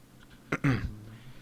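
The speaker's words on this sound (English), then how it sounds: "Maybe I should clear my throat." A single person clears their throat close up, two short harsh bursts in quick succession, loud against a quiet room.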